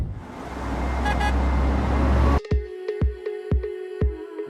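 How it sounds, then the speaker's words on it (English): An RV motorhome on the road in Wyoming: a loud, steady road and engine roar that cuts abruptly to a quieter interior with a regular ticking and soft thumps. "We're driving out now"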